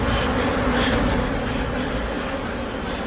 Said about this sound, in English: it turned out that it was just a huge swarm of bees.